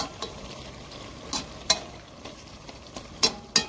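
Pilaf cooks in a pot outdoors and a utensil scrapes and knocks against the metal while stirring, giving a few sharp clinks over a soft, steady sizzle.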